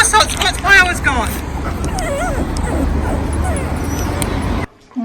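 Dogs yip and whimper in a high, wavering run of cries up close, with a person talking over them throughout before the sound cuts off near the end.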